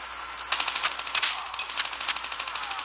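Rapid automatic gunfire from a Call of Duty capture-the-flag match, a fast steady burst of shots starting after a brief pause and continuing close and loud to the end.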